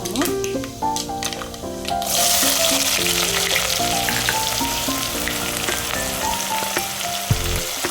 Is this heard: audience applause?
no